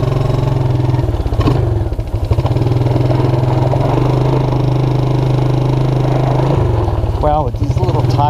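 Small engine of a Suzuki Quadrunner LT230E flat track racer ATV with automatic clutch running loud and close, a steady throbbing idle with brief revs and dips throughout.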